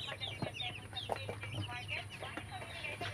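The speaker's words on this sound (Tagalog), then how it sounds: "Ang gaganda ng mga sisiw po." Chicks and chickens in a cage keep up a constant chorus of high peeping and soft clucking, close and busy over a low steady hum.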